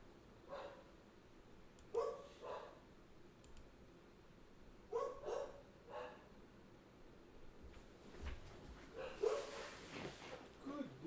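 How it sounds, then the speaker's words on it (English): A dog barks indoors at what seems to be a delivery, giving short bursts of a few barks spaced apart, faint and somewhat distant, mixed with clicking sounds and a voice. "What are you barking at? Is there a delivery?"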